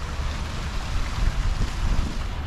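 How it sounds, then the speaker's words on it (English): Water from a fountain splashes steadily at an outdoor tent-style shopping area on a date farm in Saudi Arabia, a continuous broadband wash with low rumble and no voices. "We can see a water fountain right here."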